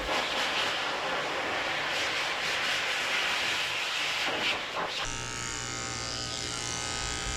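Electric dog clippers fitted with a number 4 blade running over a Maltese-Poodle mix at a grooming table: a continuous close buzz with shifting texture, then a steadier hum under dryer-like noise.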